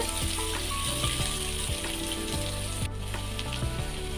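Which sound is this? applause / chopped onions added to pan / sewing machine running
chopped onions added to pan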